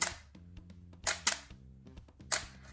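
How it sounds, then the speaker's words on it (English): A camera shutter set to a slow shutter speed fires several distinct, close mechanical clicks, each followed by a softer second click as it closes, in a quiet room. "you can slow that shutter speed down, thereby letting in a lot more light, and it might sound something more like this"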